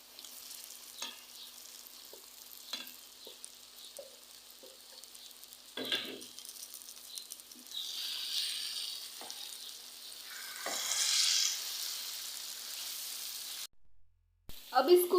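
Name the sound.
pre-fried okra being added to masala and stirred in a pan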